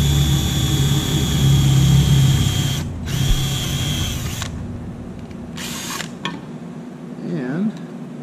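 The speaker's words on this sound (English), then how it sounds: "I'm gonna drill." A power drill whines steadily as it bores into aircraft sheet metal to fit a nut plate. The loud, close drilling lasts about four seconds, then stops, leaving brief mechanical clicks and handling noise.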